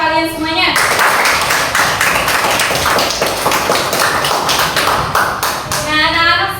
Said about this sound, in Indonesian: tepuk tangan untuk kalian semuanya